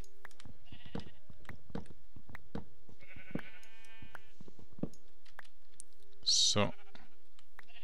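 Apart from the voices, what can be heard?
sheep bleating in the video game Minecraft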